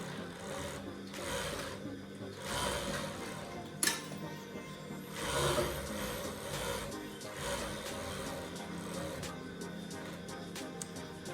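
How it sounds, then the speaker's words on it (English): An overlock sewing machine hems the edges of a cloth drawstring bag with a steady, fairly quiet mechanical whirr and soft rubbing of fabric, a brief clack partway through. "I just overlocked the sides and then hem it"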